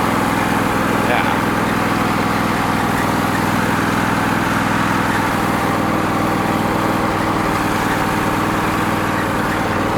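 A Husqvarna or Craftsman riding lawn tractor engine runs steadily at a constant drone throughout, close and fairly loud, with a voice talking over it.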